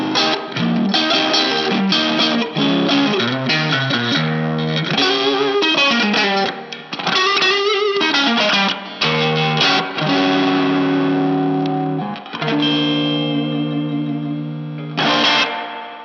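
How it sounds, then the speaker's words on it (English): Overdriven electric guitar through a rare Dumble Overdrive Reverb amp with onboard reverb, playing a flurry of fast distorted licks and chords before settling into long sustained notes, loud and close with reverb tails and no talking. "the elusive Overdrive Reverb by Dumble. A very, very rare amp because it has onboard reverb"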